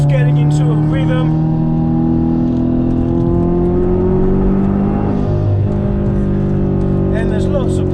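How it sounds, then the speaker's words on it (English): A big-turbo Subaru Outback XT wagon making about 450 wheel horsepower drones steadily from inside the cabin as it pulls through corners, its engine pitch climbing and dipping gradually with throttle. "I'm on the gas through the corners and I'm just so confident."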